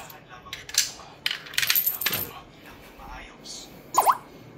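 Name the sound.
peso coin inserted into coin-operated wifi hotspot machine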